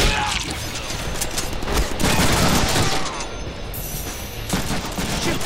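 Rapid gunfire bursts from the Deadpool PC video game, loud and continuous machine-gun fusillades with crashing impacts, dense throughout and briefly easing near the end.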